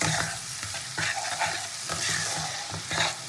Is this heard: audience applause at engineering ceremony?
no